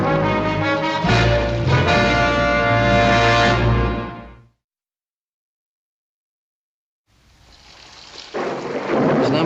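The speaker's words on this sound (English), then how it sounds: "Not much of a rain, but it sure came up fast." A loud burst of thunder rolls over heavy rain during a sudden, strong storm. It cuts to silence for a few seconds, then the rain hiss slowly builds back in.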